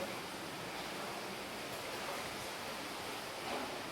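Heavy rain pours outside a flooded village house, a steady broadband roar of rainfall without breaks or talk.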